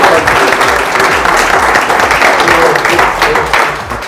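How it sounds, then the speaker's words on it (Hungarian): An audience at a lecture breaks into dense, loud applause that keeps going steadily for the whole stretch. "Úgyhogy én azt szeretném, hogy tapsoljuk meg ezt a csapatot így hárman egybe."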